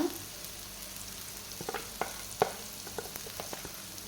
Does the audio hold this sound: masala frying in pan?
yes